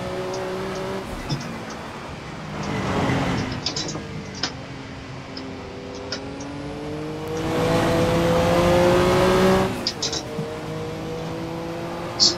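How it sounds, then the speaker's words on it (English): Turbocharged car in the Assetto Corsa racing game pulling hard on track, engine tones rising steadily with a thin turbo whine layered over the revs, loud and close, swelling twice as the car accelerates. "It's quite a nice whine of the turbo"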